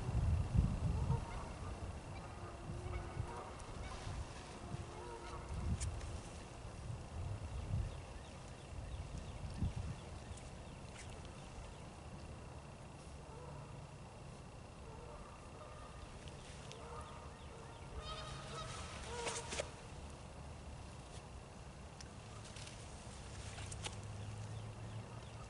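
Geese honking outdoors in the morning, scattered honks and calls at moderate distance over a quiet ambient background, with occasional nearby bumps and rustles, no speech.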